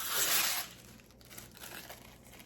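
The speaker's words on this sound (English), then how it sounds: "Next, we're going to rip up the paper." Paper being ripped by hand into small pieces for a craft wreath, a loud bright tearing burst at the start followed by quieter scattered crinkles and rustles.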